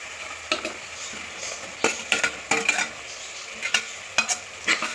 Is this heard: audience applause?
no